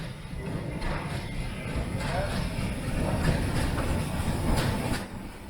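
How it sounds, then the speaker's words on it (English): A North York Moors Railway train passes at Grosmont with a steady, fairly close rumble and a rhythmic clatter of wheels over rail joints that lasts throughout. "Obligingly, a train came along just at the right time."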